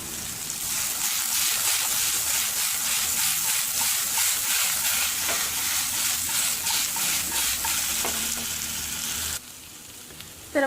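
Green banana slices fry in a pan and are stirred with a spoon, giving steady, close, loud sizzling with soft scraping for about nine seconds, then a quieter stretch with no talk.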